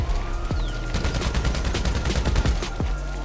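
Dense gunfire rattles in GTA Online, rapid overlapping bursts from several guns cracking loudly and continuously through the whole stretch, with no talking over it.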